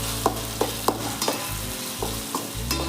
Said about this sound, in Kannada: ನೀಟಾಗಿ ಫ್ರೈ ಆಗ್ತಾ ಇದೆ